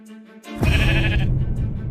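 Sheep in the video game Minecraft give a single loud, close bleat after a brief quieter lead-in, with no speech.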